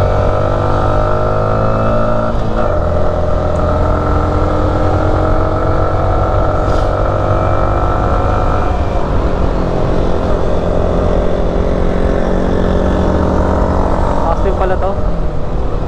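A Yamaha R15M motorcycle engine drones steadily on a mountain road ride, its pitch rising and falling with throttle changes amid constant wind roar, loud and close throughout.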